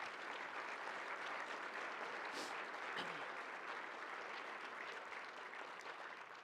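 A theater audience at a community arts event claps in a loud, sustained round of applause, steady dense clapping throughout with no talk.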